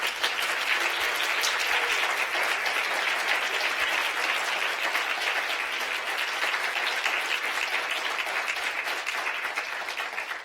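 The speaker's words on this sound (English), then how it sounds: "Yeah, that can merit applause." A school audience bursts into sustained, loud applause at a commencement-speaker announcement, dense clapping from many hands running steadily throughout with no talking.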